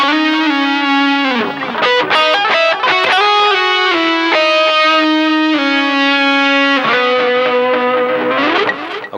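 An electric guitar with a heavy distortion effect plays a sustained, singing melody with slides and bends between the notes, loud and continuous throughout.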